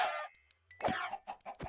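Minecraft chickens in the Modern Skyblock 3 modpack give short clucks, two or three quick bursts near at hand with a brief hush between them, no voices present.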